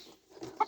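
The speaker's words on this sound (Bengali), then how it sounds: "মুরগিটা ওমান দেশের ওমানি মুরগি আর কি।" A large Omani chicken gives one short, soft cluck, faint and close, with nothing else around it.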